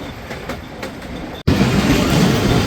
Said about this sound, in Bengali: ট্রেনটি প্রবেশ করছে তার পঞ্চমতম স্টপেজ কাকনহাট রেলওয়ে স্টেশনে